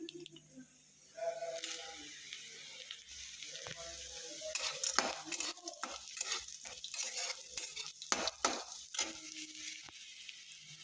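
Chopped onions fry and get stirred in a pan, with a soft sizzle under repeated scraping and clinking stirs that grow busier midway.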